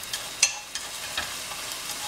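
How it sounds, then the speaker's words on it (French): Eggs sizzle and crackle in a hot pan for fried rice, a steady bright hiss broken by small pops and faint stirring scrapes, with no talking. "on va frire les œufs"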